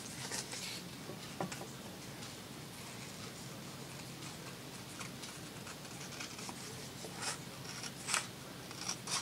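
Scissors snipping paper pieces for a lapbook, faint scattered cuts and rustles with a few sharper snips toward the end, close but quiet.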